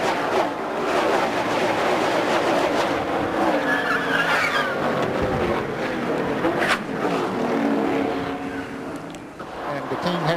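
NASCAR stock cars roar past at speed in the 1999 Primestar 500, including Kenny Schrader's green No. 30, with a loud, continuous engine drone under race commentary.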